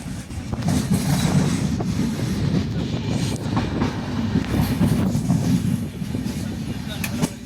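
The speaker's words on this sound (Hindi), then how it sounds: "इस मोमेंट पे ट्रेन की भी आवाज़ें इतनी अच्छी लग रही थी।" A train crossing a bridge rumbles steadily along the rails with a low, continuous roar and faint rattling clatter, loud and close throughout, in the mountains of Jammu and Kashmir.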